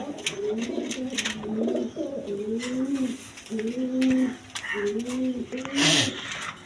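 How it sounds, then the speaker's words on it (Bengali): Indian Kaldom pigeons at a pigeon seller's stall give repeated low, rolling coos in a steady rhythm, loud and close, with several overlapping phrases and a brief sharper call near the end. "এখানে এক পেয়ার ইন্ডিয়ান কালদম কবুতর আছে"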